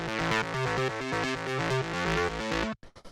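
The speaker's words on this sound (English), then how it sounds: "So this one is made using square waves." Second synth bass layer built from two square waves for a techno track: a loud, buzzy stepping bass line with hollow harmonic tones, played alone for nearly three seconds before cutting off into a few short hits.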